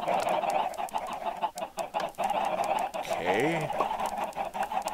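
Chickens in Minecraft cluck in short bursts over a steady background, with one rising and falling squawk; a voice speaks briefly.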